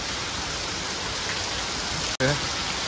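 Steady rain falls throughout, a dense even hiss on a surface, with a brief dropout near the end followed by a few faint tonal sounds.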